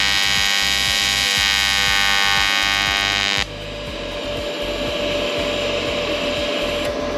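HitBox AC/DC TIG welder balling the tungsten tip for aluminum: a loud, harsh, steady buzzing hum with a rapid pulsing pattern that drops abruptly to a quieter, rougher crackling buzz before stopping.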